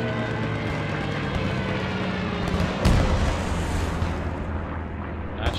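A Stuka dive bomber attack in a Post Scriptum match, heard as dense, continuous rumbling battle noise with a heavier blast near the middle, loud and sustained with no talking.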